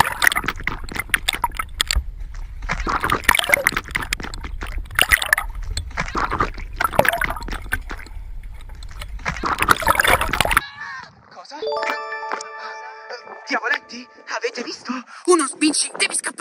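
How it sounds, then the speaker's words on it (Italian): A camera plunged underwater at the beach: first loud splashing and sloshing with voices, then a sudden switch to muffled underwater gurgles, bubbles and faint tonal whines. "Immergiamo la telecamera sott'acqua."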